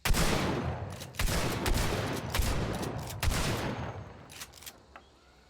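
Rapid shotgun blasts from the Spectre in the video game Hunt: Showdown, around five loud, close booming shots at an uneven, quick pace, each trailing into a reverberant tail before the next.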